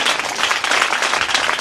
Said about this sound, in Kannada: ಒಂದು ಚಪ್ಪಾಳೆ ಹಾಕ್ರಪ್ಪ